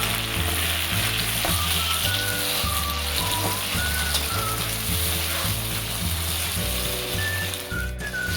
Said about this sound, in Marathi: त्यानंतर मी हिरवी मिरची आणि लाल मिरची पण टाकून घेतली आणि आता टमॅटो पण टाकून घेतले. याला 2 मिनिटं आपण चांगलं परतूया.